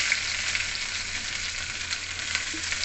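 Green chillies and onion fry in a pan, giving a steady, soft hiss of sizzling oil with faint crackles and no talking.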